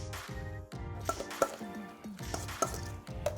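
A spoon stirs chopped cilantro into pico de gallo in a bowl, producing close, irregular clinks and scrapes against the dish with soft wet squishing between them.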